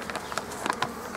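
Bees buzz in short, scattered bursts close by at an open beehive being worked with smoke, faint individual wingbeats darting past.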